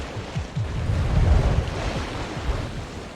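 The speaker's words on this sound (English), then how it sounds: "Big waves." Big ocean waves surge and crash around a small sailboat at high speed during the Transat 6.50 solo race, with heavy wind buffeting the microphone in a loud, continuous roar.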